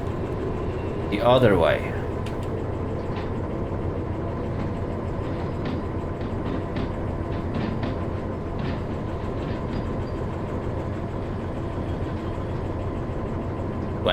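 A locomotive in the train game Derail Valley runs with a steady engine drone and rolling rail noise, a brief clank near the start, while someone talks over it.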